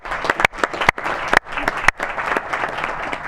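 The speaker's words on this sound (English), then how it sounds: "Please give another round of applause for Jordan Lindsay and the communications team" An audience gives a round of applause for a communications team, starting as a few sharp scattered claps before swelling into dense, sustained clapping.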